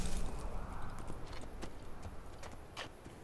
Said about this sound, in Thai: โอ้ม้าเดินมาหาเราด้วยนะ